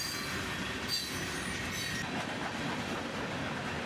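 CSX freight train cars, boxcars and covered hoppers including a TTX boxcar, roll steadily past up close, with continuous loud wheel rumble and faint squealing from the rails, no voices.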